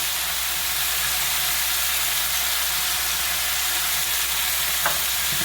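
Chicken sautés with turmeric in a pan for a Bengali coriander chicken curry, giving a steady, loud, hissing sizzle with a faint clink near the end.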